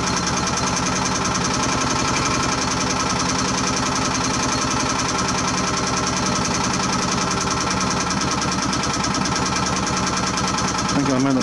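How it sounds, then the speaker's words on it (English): A cold engine running on wood gasifier gas with a slow gas flow labours near stalling, a loud, steady, rough knocking chug that continues without a break, close up and alone. "The gas flow is very slow, so the engine is having a hard time keeping alive"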